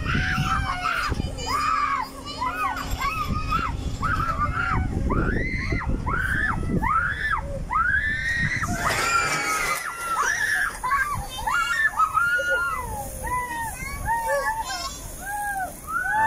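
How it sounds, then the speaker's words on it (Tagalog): Crowd of riders on an amusement ride at Mall of Asia, Manila, screaming loudly and continuously, with overlapping high shrieks rising and falling throughout. "At kahit sino siguro sumakay guys ay hindi mo mapigilang sumigaw."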